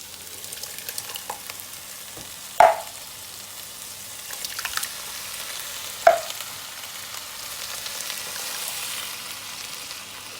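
Ingredients sizzle and bubble softly in a pan, a low steady frying hiss broken by two sharp clinks of a utensil against the pan.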